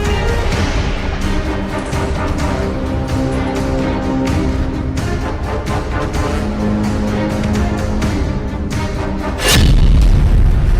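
Hamas fighters attack Israeli tanks and armored vehicles at close range in Gaza: a tense tonal music bed runs throughout, then a sudden loud, heavy blast erupts near the end and rumbles on.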